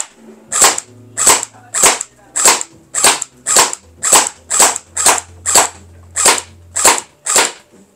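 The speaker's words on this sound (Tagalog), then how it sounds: "Firing semi-auto sa karton." Tiangong ARP9 v2 gel blaster firing semi-auto into cardboard: thirteen sharp, evenly spaced snapping shots at roughly two per second, loud and close, with a faint low motor hum between some shots and no talk.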